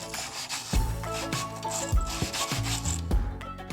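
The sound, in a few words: brush scrubbing inside an arrow shaft with acetone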